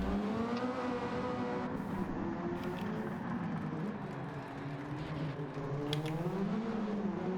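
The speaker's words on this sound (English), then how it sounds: "And just hear the engine and turbo whirring up whenever he steps on the gas." A race car engine in a racing video game drones steadily and climbs in pitch with a whirring turbo as the throttle opens, a continuous tonal whine with a few short bursts.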